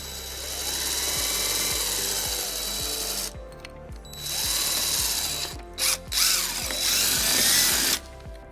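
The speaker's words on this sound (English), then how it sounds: "using a 3/16 drill bit, we're going to drill our first hole." A power drill bores a hole through a 2016 Toyota RAV4 bumper with a 3/16 bit, its motor whining steadily and loud in several sustained bursts with brief pauses between them.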